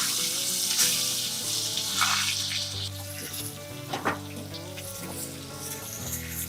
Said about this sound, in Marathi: मोहरी छान तडतडू देऊयात अगदी थोडीशी आपण हळद घातली गॅस लहान केला आणि त्याच्यात आपण आहे आपले कारले घालून घेऊया